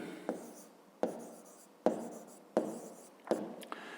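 Pen strokes writing numbers in a notebook during a fifth-grade maths exercise, five sharp scratchy taps with short trailing scrapes spaced about once per second, close and fairly quiet, with no talking.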